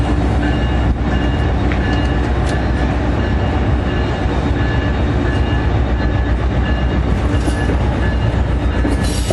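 A loud, continuous rumble of a locomotive rolls past close by on the Port Jervis Line, with heavy rail noise and steady clatter of wheels throughout.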